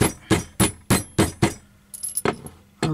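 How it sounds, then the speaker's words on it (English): A hammer strikes a round leather slip collar in a quick series of sharp, close knocks, about six evenly spaced blows, then a few lighter taps and faint metallic clinks. "Give it a smack down with the hammer."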